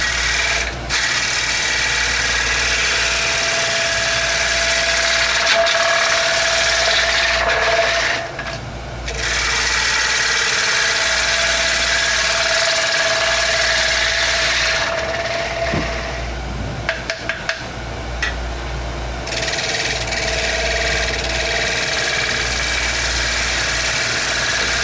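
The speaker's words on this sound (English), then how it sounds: "So here's a traditional gouge here to finish up." Wood lathe spinning a platter while a traditional gouge finishes the cut, a loud, continuous motor hum with steady tool scraping that briefly dips and resumes.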